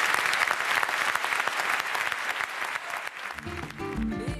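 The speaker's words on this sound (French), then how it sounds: "On peut les applaudir." Dense audience applause fills the hall, a crowd clapping loudly before it fades out as music begins at the end.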